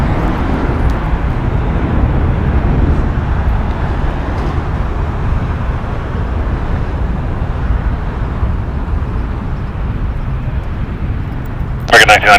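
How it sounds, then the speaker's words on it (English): A seven-year-old American Airlines Airbus A321 jet departs LAX for Dallas, with a loud, steady broadband roar that holds for the whole stretch and ends in a brief burst of sharper noise. "Very loud departure by this American Airlines, flight 1994, going to Dallas. It's an Airbus A321"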